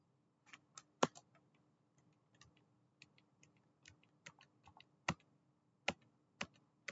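Keyboard typing in the vi editor on an Ubuntu system while working on a basic shell script: sparse, crisp individual keystrokes with uneven pauses, close and clear over a faint, quiet hum.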